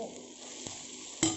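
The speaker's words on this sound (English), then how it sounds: "now I will add in the eggs" Eggs sizzling in a pan while cooking egg bhurji, a steady close frying hiss with a couple of sharp clinks of a utensil against the pan, no talk.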